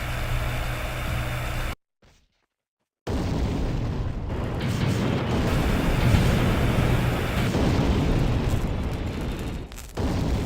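Grenades explode against an enemy building in the Empires game on the Canyon map. A dense, roaring wall of blast noise plays, cuts out briefly into silence, then resumes with a heavy rumble that swells and lingers.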